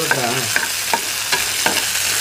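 Tomato fries in a pan for chapati noodles while a utensil stirs it, producing a loud, continuous sizzle broken by several sharp scraping strokes at an uneven rhythm, with no voices.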